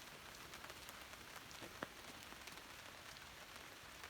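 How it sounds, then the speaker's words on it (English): Steady rain patters on and around a camper van with a canopy, parked in Oregon, making a dense, even hiss of drops with one sharper tick, no voices. "It's been raining the whole time."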